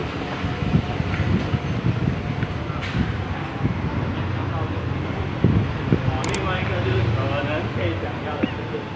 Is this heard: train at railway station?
yes